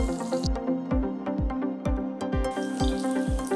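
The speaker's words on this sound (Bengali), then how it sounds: "এগুলো একটু লাল করেই ভেজে নিতে হবে" Dried loitta fish fried with sweet pumpkin in a pan, giving a steady close sizzle broken by regular clattering knocks of a spatula, with no talking.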